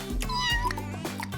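Kitten meowing in a few short, high, wavering cries, close and clear, with no other sounds around them.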